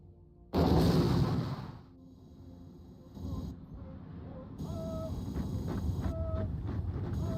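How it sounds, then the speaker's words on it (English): Airstrike in the Geo-Political Simulator 5 strategy game: a loud, booming blast opens, followed by lower rumbling and scattered game interface tones and clicks, with no voice. "I'm gonna conduct an airstrike."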